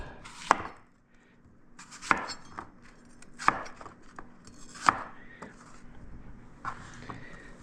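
A Granny Smith green apple being sliced with a knife on a cutting board: four or five sharp, close knocks of the blade against the board at irregular intervals, each with a short crunch, and no talking.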